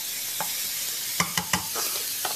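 Sweet and sour vegetarian meat frying in a pan, a steady bright hiss of sizzling with a few soft stirring scrapes and clicks near the middle, no voices.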